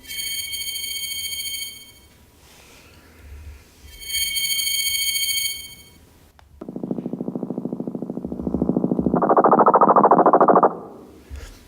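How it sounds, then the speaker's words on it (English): A 1969 EMS VCS3 analog synthesizer producing electronic tones: bright pulsing ringtone-like beeps in two bursts, then a loud buzzy sustained drone that swells brighter before cutting off, with no voices. "something that I've discovered by using this synthesizer, which is an EMS VCS3 that was built in 1969"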